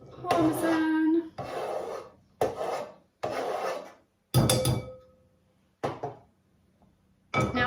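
A block of Parmesan cheese is rasped across a grater into wild garlic pesto in repeated short bursts of scraping strokes with brief pauses between them, close and crisp.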